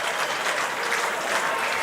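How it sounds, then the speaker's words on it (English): A Perth football crowd cheers and applauds at the final siren, a dense, loud wall of clapping and roaring that fills the whole moment. "The Perth crowd ecstatic."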